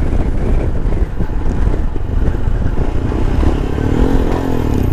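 A 2021 Royal Enfield Himalayan motorcycle engine runs steadily at close range, a loud continuous low rumble with some wind buffeting throughout and no speech.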